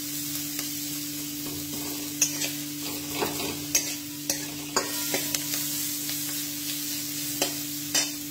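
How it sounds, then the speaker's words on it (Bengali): Onions frying in mustard oil in a pan, a steady soft sizzle with repeated scraping and stirring clicks from a spatula, close and without any talking. "পেঁয়াজগুলো মোটামুটি ভাজা হয়ে গেছে।"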